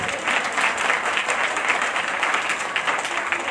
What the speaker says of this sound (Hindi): आप लोगों के लिए जोरदार ताली जोर से जोर से